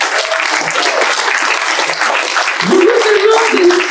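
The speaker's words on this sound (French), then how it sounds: "je vous demande de vous applaudir" Sustained audience applause fills a campaign launch evening, a dense steady wash of clapping from a large crowd with a brief voice rising over it near the end.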